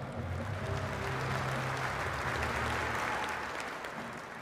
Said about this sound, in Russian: Аплодисменты боксерам.